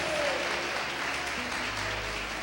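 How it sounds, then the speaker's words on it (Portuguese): A church congregation bursts into sustained, dense applause that fills the space evenly from start to finish. "Uma salva de palmas para Jesus."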